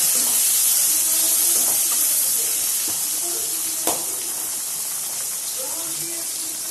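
Chopped tomatoes sautéing in a pan for surakkai kootu, a bottle gourd dish, give a steady, even sizzling hiss throughout, with faint talking in the background.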